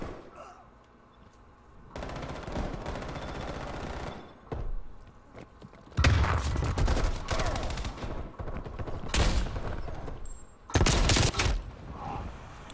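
Gunfire in Black Ops Cold War on the Nuketown map during a team deathmatch, with loud bursts of rapid shots separated by quieter gaps, some sustained volleys and single heavy cracks, no talk.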